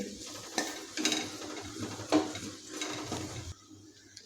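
Spices and ingredients being stirred and sautéed in a pan for a bottle gourd curry: a spoon scrapes and knocks against the metal in irregular strokes over a faint sizzle, close and fairly quiet, with no talking.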